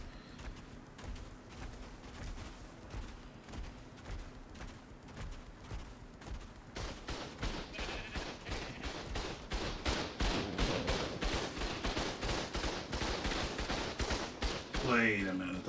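Automated turrets in ARK: Survival Evolved fire at wild creatures, starting as scattered shots and building into a fast, steady stream of rapid gunfire that runs to the end.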